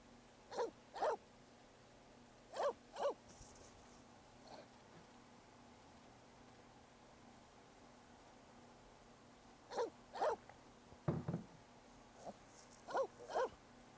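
A dog barking in The Sims 4, short double and triple barks in scattered bursts, fairly faint over a quiet low game ambience, with long gaps between them.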